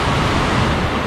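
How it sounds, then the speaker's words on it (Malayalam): Water flowing under the Chamravattam bridge at low water level, a dense, continuous rushing hiss that fills the short moment at steady loudness, with no voices. "ഇപ്പോൾ ഇവിടെ വെള്ളമൊക്കെ കുറവായതുകൊണ്ട് വെള്ളം വലിക്കുന്ന സൗണ്ടൊക്കെ കേൾക്കുന്നുണ്ട്, അടിപൊളിയാണ്."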